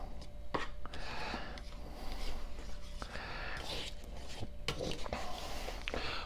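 Unleavened bread dough is stirred into itself, making close scraping and rubbing with occasional sharp knocks against the bowl over a steady low background.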